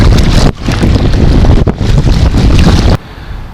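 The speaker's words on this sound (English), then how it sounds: "this has to be the worst wind conditions I've experienced here" Strong gusting wind buffets the microphone on Lake Kurwongbah during a bass fishing trip from a paddled craft. It is a loud, continuous roar with brief dips, then drops to a quieter rush near the end.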